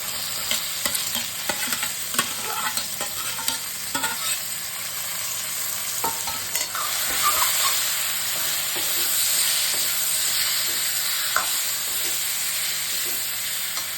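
Boiled bottle gourd goes into a hot pan for lau dal and is stirred, giving a steady frying sizzle broken by frequent spoon scrapes and knocks, close and alone without voices.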